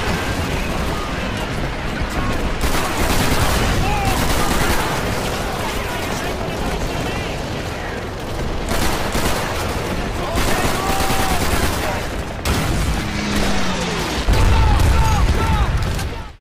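MG42 machine gun in Call of Duty 3, loud rapid bursts of automatic fire with booming explosions and battle noise, a few separate volleys across the stretch with voices shouting in between.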